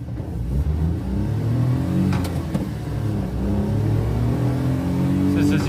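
A 1996 Daihatsu Midget 2 with a 4-speed gearbox pulls away, its small engine droning and rising in pitch through the gears, close and steady, with a voice talking over it.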